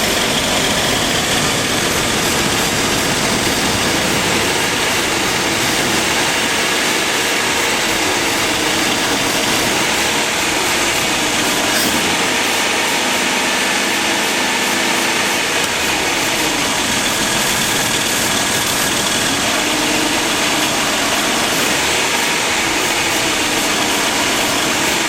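A 258 engine in an AMC Eagle idles steadily with a faint, slightly uneven miss, a continuous low rumble with broadband mechanical noise and no talking.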